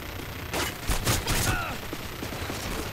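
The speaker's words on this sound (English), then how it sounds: "I shot him as well." Rapid gunfire from a Modern Warfare 3 multiplayer match, a cluster of loud broadband shots bursting over game noise with a brief ricochet-like whine, continuous in the background.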